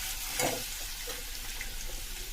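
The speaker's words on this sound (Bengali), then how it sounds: "লঙ্কা ফোড়ন দিলাম, খানিকটা রসুন দিয়ে দিলাম কোড়ানো।" Dried red chilies and crushed garlic spluttering in hot oil for an egg dish, a steady close sizzle with a brief louder crackle near the start.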